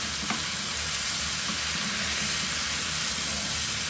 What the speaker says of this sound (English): next I'm going to add the tin of chopped tomatoes